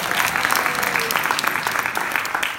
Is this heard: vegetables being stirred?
no